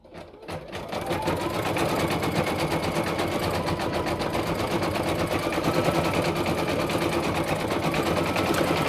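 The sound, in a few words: Brother VE2200 embroidery machine stitching a hat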